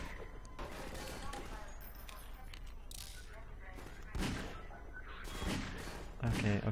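Gunfire in the video game Half-Life 2: a continuous busy battle mix of rapid shots and thuds with several louder bursts, under a player's voice talking over the game.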